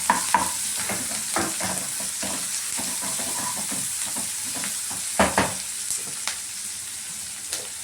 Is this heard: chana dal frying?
yes